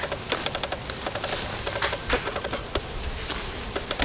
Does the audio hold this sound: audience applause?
no